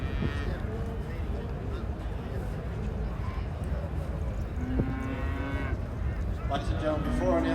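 Cattle at the Ekka show judging low out several times, sustained moos over a busy showground crowd murmur with a voice talking throughout.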